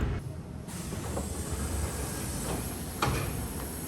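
A Sanyo Electric Railway train in Japan pulls into a station after a sharp curve, with a continuous rumble of wheels on rail, a brief hiss and a short squeal near the end.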